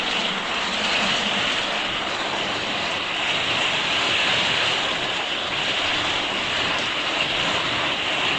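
Heavy rain pouring down in a storm, a dense, unbroken roar of water that stays loud and constant throughout, with no voices.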